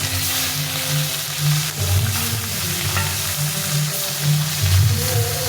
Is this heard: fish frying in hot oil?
yes